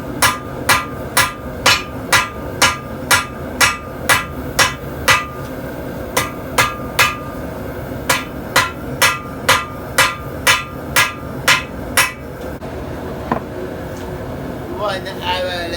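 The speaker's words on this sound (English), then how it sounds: "So we've been hammering along and we're making good progress." Rapid, ringing hammer blows on a 52100 steel knife blade being forged strike in steady bursts, each a sharp clang, with a brief pause midway and a faint hum behind.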